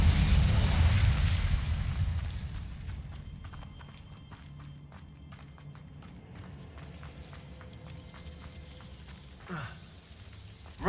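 Incendio fire spell cast in Hogwarts Legacy: a loud whooshing, rumbling fiery burst at the start that fades into quieter game ambience with scattered clicks and a brief swoosh near the end.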